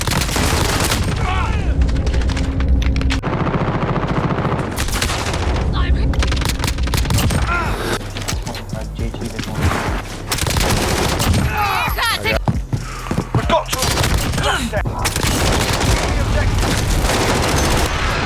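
Heavy gunfire in Call of Duty Modern Warfare, loud rapid automatic bursts and booming shots almost without break, with a player talking over the fighting.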